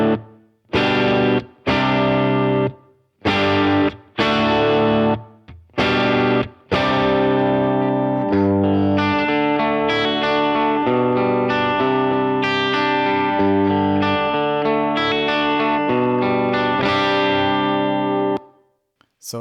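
A high-output electric guitar plays through a Vox amplifier, starting with sharp chopped chords separated by short gaps and then moving into a sustained, ringing run of notes that stops abruptly near the end.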